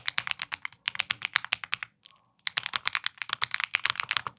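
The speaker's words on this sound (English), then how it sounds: "And I love that this keyboard is like a nice clicky keyboard." Rapid typing on a clicky Maker Galaxy 82 mechanical keyboard at a desk, crisp close keystrokes in quick bursts with a short pause partway through.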